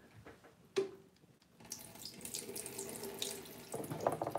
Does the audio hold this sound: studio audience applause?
no